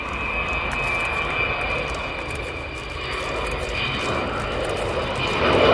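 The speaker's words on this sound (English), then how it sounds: "Here she is with the bomb doors closing as she comes past again." An Avro Vulcan XH558 bomber roars past at close range with bomb doors closing, a steady broad rumble that swells louder toward the end, with no voices.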